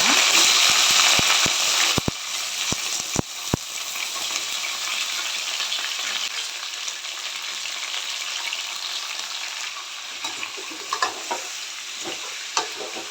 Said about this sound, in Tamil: இதை கொஞ்சம் எண்ணெயில் வந்து நல்லாவே வதங்கட்டும்.